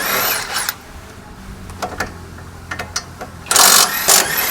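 Screws and nuts come off a car steering knuckle with a power tool: loud whirring bursts at the start and end, separated by scattered metallic clicks and ratcheting taps, close up with no speech.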